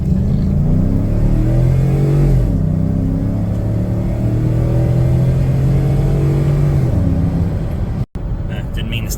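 A stock 12th-generation Ford F-150 pickup accelerates hard in a full-throttle pull, its engine loud and close with rising revs through a long run, then a shift near the end; a voice speaks briefly over it.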